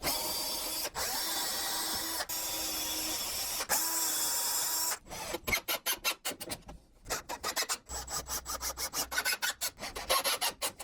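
Power drill pre-drilling holes in the top corners of an L-frame plantation shutter frame, first in long steady whirring runs, then in rapid stuttering bursts and short pulses, close and loud with no talking.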